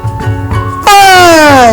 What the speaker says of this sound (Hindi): अब कितनी बार हमें हॉर्न की आवाज आती है